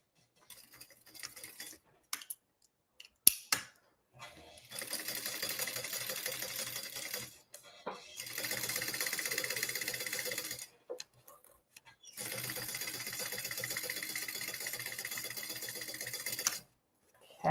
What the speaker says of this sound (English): you're going to do a stitch just along the bottom part, not where it curves. It's just a basting stitch